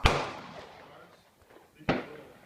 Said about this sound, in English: Shooting the Saiga.